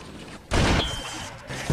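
Minigun turrets firing inside a fortress in Halo, Red vs Blue machinima: a sudden loud burst of rapid gunfire that rings out and then tapers off.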